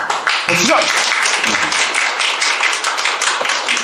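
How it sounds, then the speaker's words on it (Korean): An audience at a math education briefing claps together on cue, a fairly close, brisk patter of hands, while a voice speaks briefly near the start. "그래서 박수를 다시 한번 쳐요. 자, 박수 한번 시작!"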